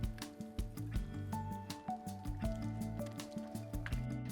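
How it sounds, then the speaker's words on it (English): Raspberry cheesecake brownie batter with eggs being stirred in a bowl, a close, wet squishing and dripping with soft rhythmic thuds of the utensil and steady background music. "Then we're gonna give it another little stir to incorporate."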